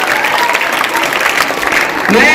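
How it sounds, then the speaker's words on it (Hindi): Applause from the crowd at an annual function, a dense burst of clapping that carries on with faint voices mixed in and a brief tonal sound near the end. "जोरदार तालियां एक बार फिर से।"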